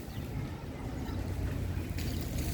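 A passenger launch moored at a river pontoon while being washed and cleaned, heard as a steady low rumble with water and wind noise throughout. A brighter hiss joins near the end. No one speaks.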